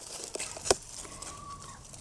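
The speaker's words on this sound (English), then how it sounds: "the chickens are digging all around it to get the bugs" Chickens cluck softly outdoors while digging for bugs in soil around turmeric plants, with a sharp brief squawk near the start, amid faint background chirps and rustling.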